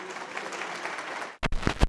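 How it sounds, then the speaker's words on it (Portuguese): An audience at a business summit claps for the speaker Alan in a dense, steady burst of applause that stops abruptly, followed by a few scattered bumps and knocks. "Palmas aqui para o Alan."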